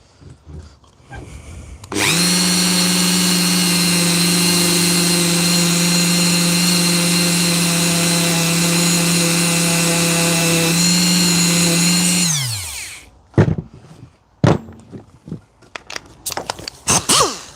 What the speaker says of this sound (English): So we're going to start with the Dremel.